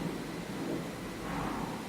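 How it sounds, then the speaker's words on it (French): Wind rumbles outside during a storm, a faint, steady low roar heard from indoors that continues unbroken with no voices over it. "J'entends le vent qui gronde dehors."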